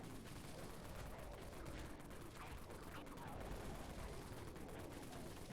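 Raid cannon gunfire in the video game Dead Frontier, a dense, continuous barrage of rapid shots under a steady wash of game noise, with no pauses.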